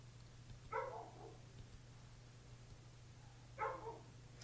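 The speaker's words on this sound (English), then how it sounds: "if y'all hear the dog in the background" A dog barks in two short bursts, a few seconds apart, somewhere off in the background over a low steady hum, fairly faint and distant.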